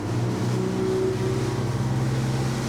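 A Sargo 28 boat's motor drones and climbs in pitch as it accelerates, a steady close engine hum filling the whole moment.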